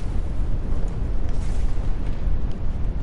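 Big explosions in the video game Fortnite, heard as a continuous heavy rumbling roar of blasts, loud and dense with no clear gaps and no talking.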